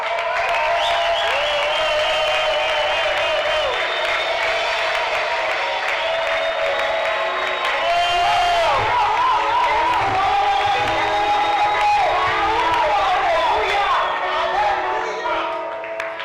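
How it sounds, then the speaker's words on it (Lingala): A church congregation stands and applauds their patriarch at a 17th anniversary celebration: loud, sustained clapping and cheering from a large crowd, with whoops, running steadily for the whole stretch. "levez-vous pour applaudir notre très cher patriarche de ce soir"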